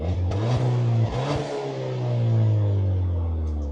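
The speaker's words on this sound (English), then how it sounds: "let me show you guys what the car sounds like as well" A high-mileage Ford Fiesta ST engine revs up in a couple of short bursts, then climbs into a longer, louder rev before easing back, heard close up.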